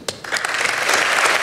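An audience applauds a dance couple at a club show, the clapping starting with a few sharp claps before swelling into a loud, dense, sustained round.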